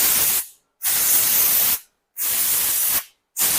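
Loud, close hissing bursts of gun cleaner spray from an aerosol can hit the slide of a Polish MPS pistol, in four steady pulses with brief silent gaps.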